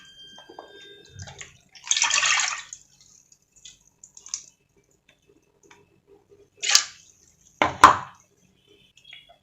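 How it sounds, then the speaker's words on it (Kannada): Water from a glass splashes into a pressure cooker holding washed lentils for a Kannada ridge gourd sambar, arriving in a few short, close pouring bursts between quiet pauses. "ಅದಕ್ಕೆ 1 ಗ್ಲಾಸ್ ನೀರು ಹಾಕೋತಾ ಇದ್ದೀನಿ."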